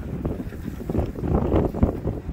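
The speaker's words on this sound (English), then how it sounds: "That's how strong the wind is right now." Strong gusting wind buffets the microphone outdoors in a garden, giving a loud, irregular low rumble that swells and dips with several sharp gust peaks, with no voices.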